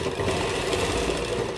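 Sewing machine running continuously while double-stitching a kurta neckline, a close, steady mechanical hum with no pauses over a short stretch.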